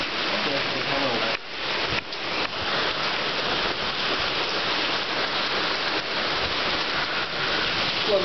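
Heavy rain pours down in Kansas during flooding, a steady, loud, dense hiss and roar of water that continues throughout.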